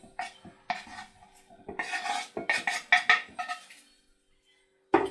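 Salad ingredients go into a salad bowl, a run of close, clattering scrapes and knocks of utensils against the dish, bunched into bursts and then a short pause before one last clink.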